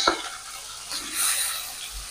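Khoira hilsa fish sizzling as it goes into hot mustard oil with black cumin in a heated kadai, a short close crackle and hiss that flares briefly and settles.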